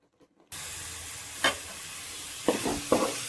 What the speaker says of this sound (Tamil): நல்லா கோல்டன் ப்ரௌன் ஆகட்டும்.